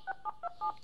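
Four quick touch-tone beeps sound from a mobile phone as a number is dialed, evenly spaced and clean, faint and alone.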